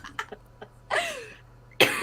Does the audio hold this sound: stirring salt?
no